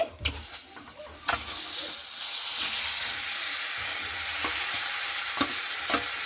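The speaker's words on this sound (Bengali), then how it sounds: "আমগুলোকে খুব ভালো মতো করে এইভাবে একটু নাড়াচাড়া করে নিচ্ছি" Raw mango pieces with five-spice seeds stirred in a little hot oil give a loud, steady sizzle with a few scrapes of the spatula, close up, with no talking.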